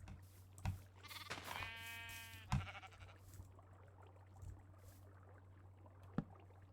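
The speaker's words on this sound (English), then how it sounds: "And make me another sheep." A Minecraft sheep gives a short wavering bleat near the start, then the game's ambient hum carries on with a couple of soft thuds, no one talking.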